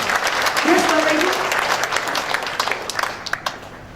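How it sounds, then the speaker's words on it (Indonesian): A church congregation breaks into applause, a dense wash of clapping that swells early and then thins into scattered claps, with a voice speaking over the start. "tepuk tangan buat Tuhan kita."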